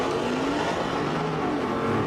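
Dodge Challenger Scat Pack and Hellcat launching side by side off the line at a drag strip, a loud continuous engine roar with rising pitch filling the whole stretch, no talk.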